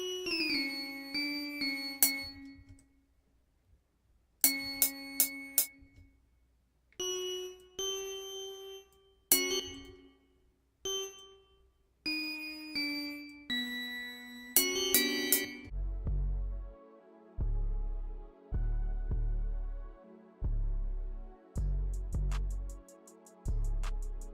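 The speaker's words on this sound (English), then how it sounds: "I like this pluck a lot because you could do some cool like halftime bell melody with it" A bright synth pluck preset from a VST plugin plays a fast halftime bell-like melody of short ringing notes, then deep bass thumps join in a regular pattern under the tune.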